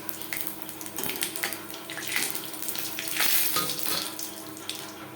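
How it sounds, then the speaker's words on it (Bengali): Dried red chili and a torn bay leaf frying in hot oil as a tempering for Bengali-style masoor dal with onion, giving a steady, close crackling sizzle with no talking. "কুড়ি পঁচিশ সেকেন্ড লঙ্কা ভেজে নেওয়ার পর দিয়ে দেবো ফোড়ন একটা তেজপাতা যেটা আমি টুকরো করে নিয়েছি"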